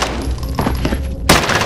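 Video game gunfire, a burst of rapid shots layered over game ambience, with a sharper, louder volley breaking in near the end.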